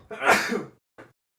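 A single sharp sneeze bursts out close to the listener, followed by a brief second exhalation, in a quiet setting with no talk.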